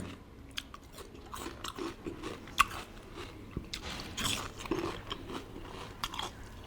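Raw large onion bitten and chewed close up, a string of crisp, wet crunches and irregular chomps over low background noise, no talking.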